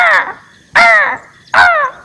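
A crow gives three loud, harsh caws at an even pace, each one close and clear against a quiet background.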